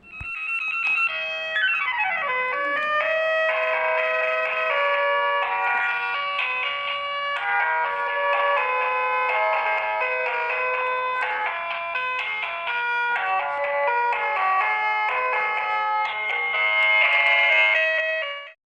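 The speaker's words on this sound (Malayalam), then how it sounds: "ഇനി ഒരു ഫോണിൽ സോങ്ങോ മ്യൂസിക്കോ പ്ലേ ചെയ്തതിന് ശേഷം ഈ ഒരു കാർഡ്ബോർഡ് സ്പീക്കറായിട്ട് വർക്ക് ചെയ്യുന്നുണ്ടോ എന്ന് ട്രൈ ചെയ്ത് നോക്കാം" Music from a mobile phone plays continuously through a homemade cardboard speaker, a bright tinny melody of sustained tones that runs steadily throughout.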